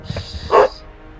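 A dog gives one short, loud bark close to the microphone, with a few faint softer sounds just before it.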